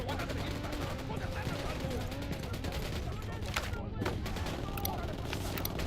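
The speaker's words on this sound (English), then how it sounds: "Opening fire on these fuckers." Gunfire in the tactical shooter Ghost Recon Wildlands, a dense rapid stream of shots and bursts against enemy reinforcements, continuous and loud with a voice talking beneath it.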